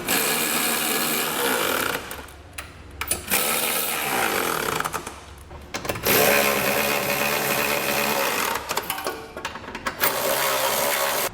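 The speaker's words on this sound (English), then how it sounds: "we're going to come back with a 19mm socket and snug everything down" Bolts on a trailer hitch receiver for a 2019 Ford Flex are driven snug with a 19mm socket on a power tool: loud, close whirring bursts with brief pauses, about four runs.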